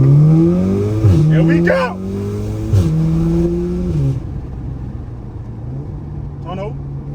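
Straight-piped Audi S3 exhaust accelerating through a tunnel with the window down: loud, rising revs climbing through several gear changes, then settling to a steady drone. A voice calls out briefly over the engine at the start.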